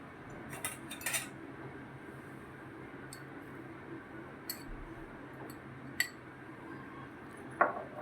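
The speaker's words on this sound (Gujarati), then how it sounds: "સારી રીતે મિક્સ કરી લઈશું દૂધની સાથે, એટલે પલળી જાય સરસ" A spoon stirs grated coconut into warm milk in a bowl for mango ladoo, giving soft wet scraping with a few sharp clinks of metal against the bowl, close and fairly quiet.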